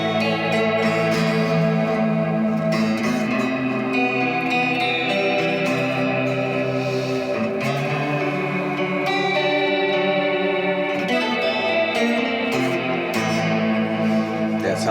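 Music plays through a time-based effects unit, with chorus-like shimmer, echoes and reverb tails swirling around sustained tones and struck notes in a dense, continuous texture at steady loudness.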